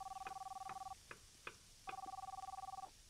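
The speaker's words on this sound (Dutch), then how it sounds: "Waarom hoor ik een telefoon?" A telephone rings inside a kebab restaurant simulator game, two long electronic trill bursts separated by short clicks and taps, fairly loud and clear.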